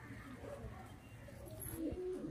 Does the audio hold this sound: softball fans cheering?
no